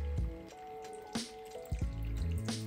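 Water is poured into a cooking pot for a Caribbean dish, a close, bubbling gurgle of liquid with rising, ringing tones and a few splashy drips, heard alone.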